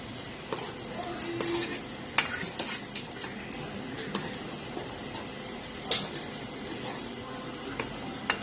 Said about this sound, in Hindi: अच्छे से मिक्स कर दें